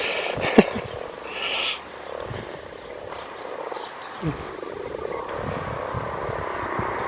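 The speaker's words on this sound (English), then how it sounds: "People don't realise that Irish frogs actually croak very loudly" Irish frogs croaking in a pond during mating season, a low chorus of overlapping croaks with a few sharper calls rising above it, heard outdoors and at moderate distance.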